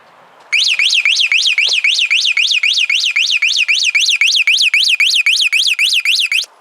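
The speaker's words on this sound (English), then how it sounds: "the light didn't trigger it, but me walking up to the garage door did." An Aldi budget driveway alarm receiver goes off with a loud, close electronic warble, a rapid rising-and-falling chirp repeating about twenty times in steady rhythm for six seconds, alone with no talking.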